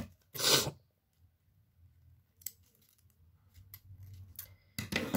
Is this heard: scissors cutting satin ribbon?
yes